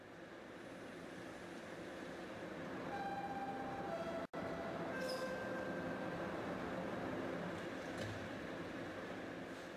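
A TTC subway train runs steadily through an underground tunnel in the OpenBVE train simulator, producing a continuous rumbling roar with faint tonal whines and a brief cut partway through, no talk.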